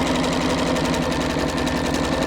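A sewing machine stitches a tablecloth straight over pins, giving a steady, rapid mechanical whir and needle rhythm up close with no pauses and no talking.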